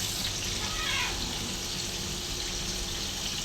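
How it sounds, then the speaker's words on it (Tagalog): Cats meow near a kitchen where fish is being fried for lunch, a short rising cry rising over steady running water from a tap. "andyan ay yung mga pusa. Ang kukulit nila."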